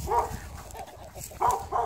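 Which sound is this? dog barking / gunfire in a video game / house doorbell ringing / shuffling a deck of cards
dog barking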